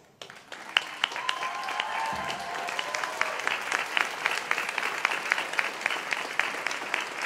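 A graduation audience at a Faculty of Arts and Social Sciences ceremony breaks into sustained applause, many hands clapping densely and evenly in a large hall, rising quickly and holding steady.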